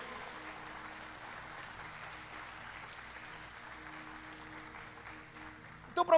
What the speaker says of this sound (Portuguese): Você pode aplaudir bem forte o nome de Jesus então por isso?